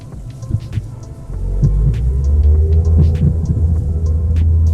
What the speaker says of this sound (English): So this one is the ultimate roar, or this one might be the storm dance roar.